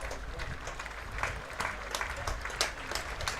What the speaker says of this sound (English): Gets a round of applause around the ground.